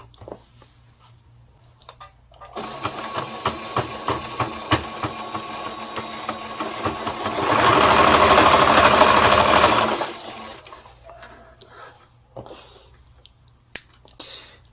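Sewing machine stitching fabric for a scrunchie: a long, close run of rapid rhythmic stitching that speeds up into a louder, denser whir in the middle, then slows and stops, followed by a few handling clicks.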